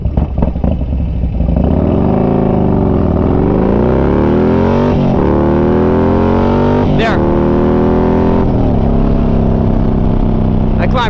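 Harley-Davidson FLHX motorcycle accelerating hard from a stop to 60 mph, loud engine note climbing through several gear changes with rising, then dropping pitch, close and continuous over wind noise.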